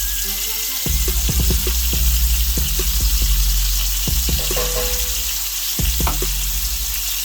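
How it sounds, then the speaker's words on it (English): Irish butter sizzles and fries in a hot cast iron pan, a loud continuous hiss broken by repeated clinks and taps, with no talk. "I'm gonna go ahead and drop some of that good Irish butter on off in there"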